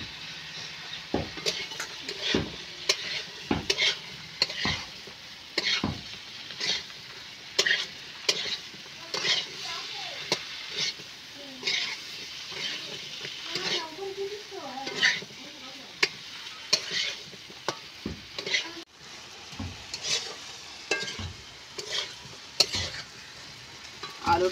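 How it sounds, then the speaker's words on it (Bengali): Potatoes are stir-fried in spiced oil, the spatula repeatedly scraping and knocking against the pan in an irregular rhythm over a continuous soft sizzle. "এবার আমি আলুটা দিয়ে দেবো, দিয়ে ভালো করে কষিয়ে নেব"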